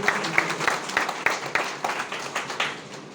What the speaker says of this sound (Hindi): रक्तदान करने वालों के लिए जोरदार ताली बजाकर हम लोग